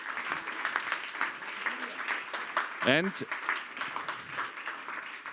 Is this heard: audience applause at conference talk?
yes